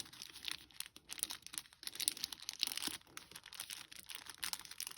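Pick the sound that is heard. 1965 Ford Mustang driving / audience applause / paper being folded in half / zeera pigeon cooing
paper being folded in half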